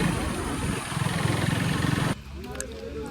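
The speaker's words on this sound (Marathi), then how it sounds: "हे बघा ट्रॅक्टर कसा आहे. आवाज बघा ते ट्रॅक्टरचा." A tractor engine runs with a steady mid-pitched chugging rumble nearby, then cuts abruptly to a quieter background with faint clatter.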